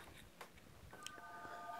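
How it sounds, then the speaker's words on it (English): A telephone rings indoors with a steady electronic tone starting partway through, steady and moderately loud, above a low room murmur. "I apologize for the phone ringing"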